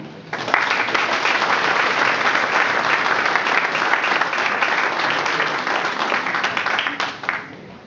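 A hall full of people at a town hall New Year ceremony applauds as a guitarist-singer is invited up, dense and steady clapping that holds strong for several seconds before tailing off.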